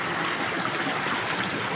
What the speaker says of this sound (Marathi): मग आता मी इथनंच ह्याच पाण्यातनं जाता पहिलीकडं